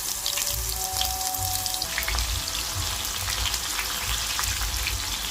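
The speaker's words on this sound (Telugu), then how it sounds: "ఆయిల్ వేడైంది కదండి, ఇప్పుడు కొంచెం కొంచెం ఇట్లా వేసుకొని ఫ్రై చేసుకోవాలి." Pieces of bitter gourd fry in hot oil, giving a dense, steady crackling sizzle with low bubbling underneath and a brief clink partway through, close up and with no voices.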